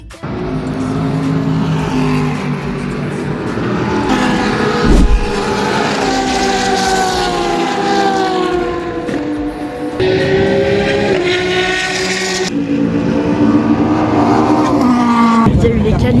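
GT4 race cars lapping in qualifying at a GT World Challenge round, heard from a rooftop above the pit lane: continuous engine drone with rising and falling revs as several cars pass, loud and steady throughout.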